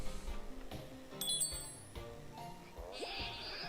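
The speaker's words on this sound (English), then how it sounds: "What wind chime? Oh, that wind chime." A wind chime in the video game Wynncraft rings with a few short, bright metallic tinkles against a quiet, busy game backdrop, and a longer shimmering ring comes near the end.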